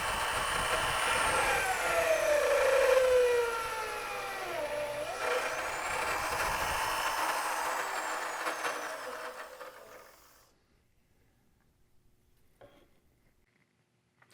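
A drill press with a Forstner bit bores into softwood at raised speed. A steady motor whine and cutting noise run for about ten seconds, then fade out to near silence.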